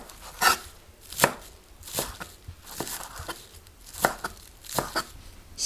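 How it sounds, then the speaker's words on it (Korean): Knife chopping dried radish greens (siraegi) on a cutting board, a series of crisp, close, irregular cuts in small bursts, with no talking. "그리고 송송 썰어주시면 됩니다."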